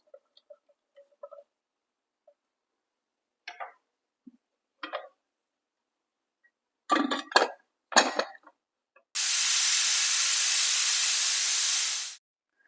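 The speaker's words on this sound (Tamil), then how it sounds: "குக்கரை மூடி ஒரு 4 விசில் விட்டு வேக வச்சுக்கலாம்." A pressure cooker on the stove cooking Erode-style mutton curry, with a few small clicks and clatters followed by a loud, steady hiss of escaping steam lasting about three seconds before it cuts off.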